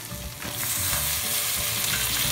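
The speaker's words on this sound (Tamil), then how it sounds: "சேர்த்துட்டு அதையும் நல்லா வதக்கலாம்" Onion, garlic, green chili and freshly added tomato fry in a pan, a dense, loud, continuous sizzle that swells after a brief quieter start and stays steady and close, with no voices.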